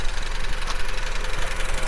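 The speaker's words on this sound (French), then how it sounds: "Donc voilà le moteur." Honda Civic Type S with a naturally aspirated 1.8-litre, 140-horsepower engine idling, a steady close hum with a faint rhythmic ticking and no talk.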